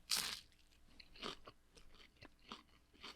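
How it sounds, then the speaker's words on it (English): Jumbo air-fried snack crunched between the teeth, several close crisp bites and chewing crunches at an uneven rhythm with quiet gaps between. "That one's definitely crunchy."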